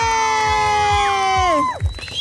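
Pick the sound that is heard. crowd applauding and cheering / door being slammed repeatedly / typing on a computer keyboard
crowd applauding and cheering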